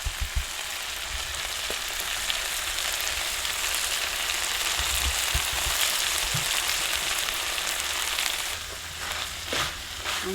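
Masala tuvar (pigeon peas) frying in a pan as coriander goes in, a steady dense sizzle with a few soft stirring knocks, close and continuous throughout.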